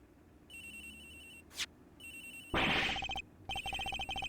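A phone rings in bursts in the video game Ace Attorney Investigations, a steady electronic trill repeating with short gaps, a sharp click and a louder noisy burst partway through, no speech.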